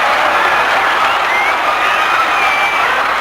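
A wrestling crowd roars and jeers in a dense, loud, sustained wash of noise after a match ends on a disqualification.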